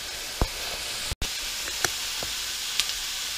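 Oyster mushroom pieces browning in a pan for a beef stir-fry: a steady, close sizzling hiss broken by a few sharp clicks and taps from stirring.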